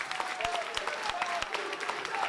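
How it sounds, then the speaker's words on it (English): Crowd at a live professional wrestling tag-team match applauding and cheering steadily for a couple of seconds, a dense wash of clapping with sharp individual claps throughout. "And listen to the crowd."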